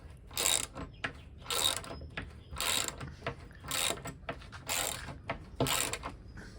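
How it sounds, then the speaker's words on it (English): Ratchet wrench tightening the first bolt on a timber drawbridge build in the Philippines, a steady series of about six close ratcheting strokes in an even rhythm, with no voices. "This is our first bolt. Suck it down tight."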